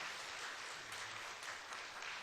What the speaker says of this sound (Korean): 우리 성도님들이 많이 기도해 주시고 감사하는 마음으로 우리 목사님에게 다시 한번 뜨겁게 박수해 주시기 바랍니다.